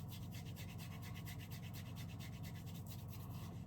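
Shaving gel is rubbed into a lather on the neck, giving a faint, steady rhythmic rubbing and squelching close to the mic, with no talking.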